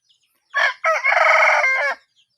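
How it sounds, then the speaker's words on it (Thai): A Burmese fighting cock crows once, loud and close, a short opening note followed by a sustained call of about a second, with silence before and after. "ทีนี้ก็จะเป็นไก่นม"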